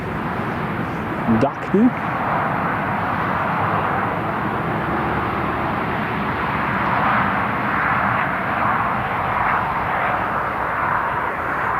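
An aircraft climbs away after takeoff from Newcastle International Airport, a steady distant engine roar sustained throughout, with a radio voice and people talking briefly near the start.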